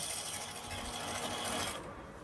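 A sewing machine runs steadily for a couple of seconds while stitching a boutique-style blouse, a close, even mechanical whirr that stops near the end.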